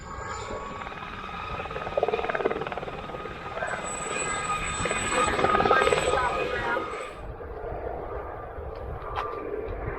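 Aircraft engine starting up for takeoff at an air museum in Liberal, Kansas, a steady droning engine with swelling loudness that cuts off partway, heard outdoors at moderate distance.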